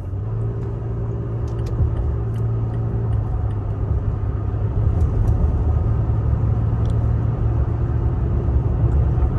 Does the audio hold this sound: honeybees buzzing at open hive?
no